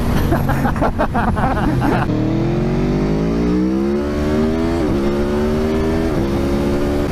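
An Aprilia sport motorcycle engine runs while being ridden, rising in pitch under acceleration with loud, close revving and a couple of brief dips during gear changes. Wind rushes over it throughout, and a voice talks near the start.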